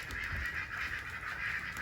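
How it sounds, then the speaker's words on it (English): Ducks quacking outdoors near a barn, a continuous honking, nasal chorus of several birds at moderate distance, fairly faint and steady with no talk over it. "There's the ducks. Hey, quack pack."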